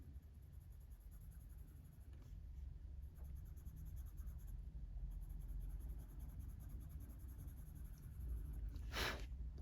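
A coloured pencil shades stones on paper, making a continuous close scratchy rasp in steady strokes, with a brief puff of breath near the end.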